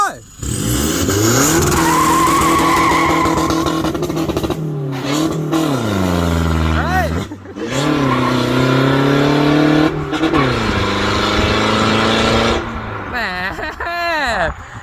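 A pink pickup truck with a remapped, tuned engine and an upgraded wastegate launches hard. The engine revs climb and drop through gear changes, and the tires screech loudly along the way.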